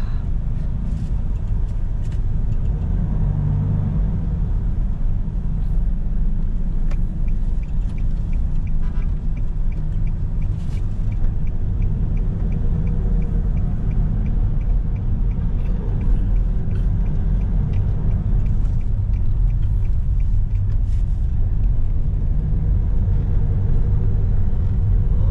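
A BMW car drives along a highway near Batangas, giving a steady, loud low engine and road rumble with continuous cabin noise and no talking.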